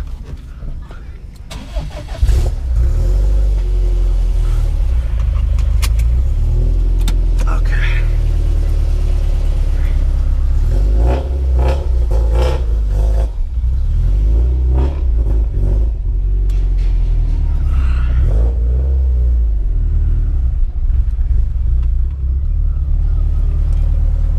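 A Subaru STI with a loud aftermarket exhaust starts up and then revs and accelerates on the way to the freeway, a deep, heavy rumble that stays loud and close throughout and swells with sharp rising revs.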